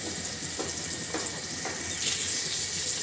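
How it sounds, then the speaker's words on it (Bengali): Rohu fish fritters of hand-ground fish fry in hot oil in a pan, giving a steady close sizzle with a few soft bubbling pops and a brief louder hiss near the end, with no talking. "ওটা একটু সুন্দর করে লাল লাল করে ভাজি করে নেব"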